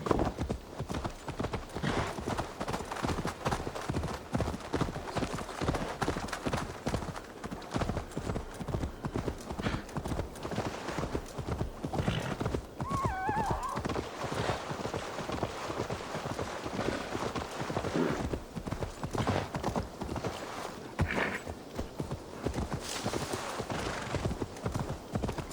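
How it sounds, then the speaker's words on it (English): Steady, rapid clip-clop of a horse's hooves galloping in Assassin's Creed Valhalla, loud and close, running continuously with a few brief snorts or whinnies and faint game ambience beneath. "This will be faster if I do it on my horse."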